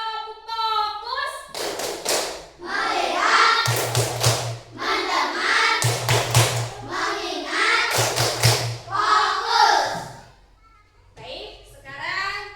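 A classroom of children performs a focus clapping pattern, bursts of loud group claps and thumps alternating with the children's chanting voices and a teacher speaking.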